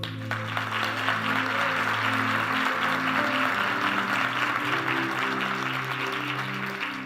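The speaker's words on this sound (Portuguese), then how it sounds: "Aplauda Ele." A church congregation applauds steadily for about seven seconds, a continuous wash of clapping, while sustained organ or keyboard chords hold underneath.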